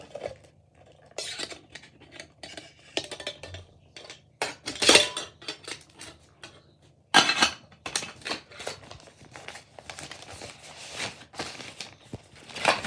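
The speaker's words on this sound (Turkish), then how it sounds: "İsterseniz çaydanlığın içerisine mikro ocağınızı da koyabilirsiniz arkadaşlar." A lightweight Nurgaz Campout three-in-one camping cookware set, with a pot, a pan and a kettle weighing about 800 grams, is handled and stacked. Irregular metallic clinks, clanks and rattles come close up, in uneven bursts.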